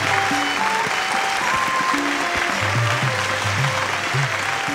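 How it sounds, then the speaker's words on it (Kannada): An audience at a Kannada television quiz show gives loud, continuous applause that holds at an even intensity throughout, with a faint tonal hum underneath. "ಜೋರಾದ ಚಪ್ಪಾಳೆ"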